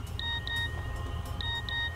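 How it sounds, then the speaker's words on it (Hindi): A phone gives a missed-call notification of quick high electronic beeps in two pairs about a second apart, over a low ambient hum with no talking. "missed call notification"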